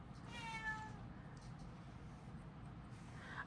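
A male cat gives a faint, distant whining meow early on, then another brief cry near the end, heard from the background over quiet room noise.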